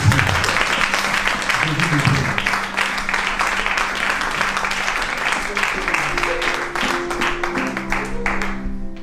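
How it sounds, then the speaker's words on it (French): A church congregation applauds and cheers for Jesus in a dense, loud burst of clapping that gradually thins out toward the end, with voices calling out among the claps. "On acclame très fort pour Jésus"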